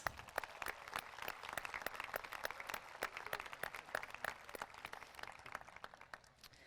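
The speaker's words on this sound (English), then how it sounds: "Give yourselves a round of applause." A crowd at a high school graduation ceremony claps steadily, a dense stream of sharp individual claps that holds for several seconds, then thins and fades slightly at the end, heard from a moderate distance.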